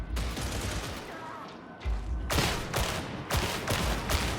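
Rapid laser gunfire from Warhammer 40K: Darktide, a dense crackling stream of shots broken by brief pauses, then resuming in loud bursts up close, with faint game ambience underneath.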